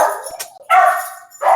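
Caleb, a puppy, lets out short yips and barks, then a higher drawn-out howling whimper, close and clear across a brief stretch of sound.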